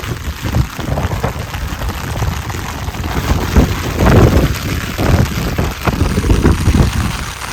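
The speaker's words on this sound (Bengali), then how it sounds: "বাবারে বাবারে বৃষ্টি দিয়ে ওই দেখেন বৃষ্টি" Loud, continuous wash of rain, with heavy wind buffeting the microphone in surges and low rumbles throughout.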